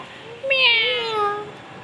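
A house cat gives one clear, drawn-out meow close by, rising then falling, over a quiet background.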